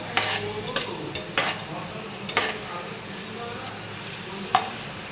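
Carrots fry in a pan with a low steady sizzle, broken by sharp scrapes and clicks of a spatula stirring every second or so.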